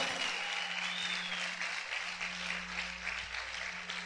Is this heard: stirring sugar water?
no